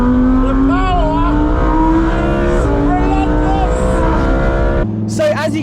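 A Lamborghini Aventador Performante engine roars loud and close as it accelerates, its pitch climbing and dropping through gear changes, with a sharper burst near the end.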